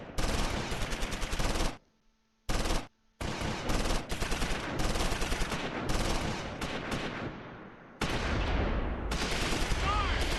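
Bazooka and small-arms fire in the World War II strategy game Close Combat V, loud repeated bursts of shots and blasts broken by brief silences, close and sharp.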